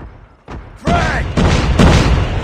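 Frag grenade explosion in Call of Duty: Mobile, a sharp close boom followed by heavy rumbling blasts over about two seconds, loud and alone.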